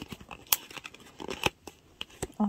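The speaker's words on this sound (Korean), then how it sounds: "이거 비닐 다 뜯는 것도 일이다." Plastic film is torn and peeled off a newly bought acrylic stand product, giving sharp rips, crinkles and snips in irregular bursts close by.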